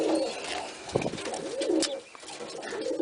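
Pigeons coo in soft, repeated throaty phrases close by, with several coos rising and falling over a quiet background and no talking.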